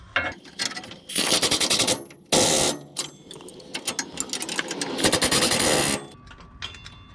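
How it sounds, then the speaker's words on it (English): A power tool tightens the top rear shock absorber bolts on a 1995 Chevy 2500 4x4 pickup in several loud, rapid rattling bursts separated by short pauses. "So we're going to be tightening up the top bolts."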